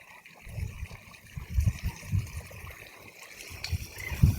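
A mountain stream runs beside a roadside, its flowing water a steady wash broken by uneven low thumps and rumbles, fairly close and moderately loud throughout.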